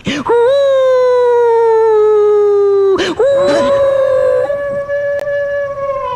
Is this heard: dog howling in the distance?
yes